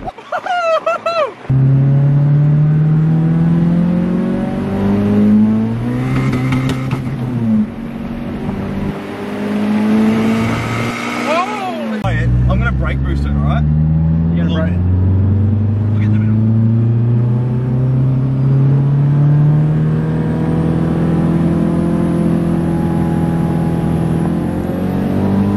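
A car with a 4EFTE engine and new intake manifold accelerates hard in second gear, its loud close engine note rising in pitch with revs, briefly dipping at a shift, then climbing again; voices can be heard over it.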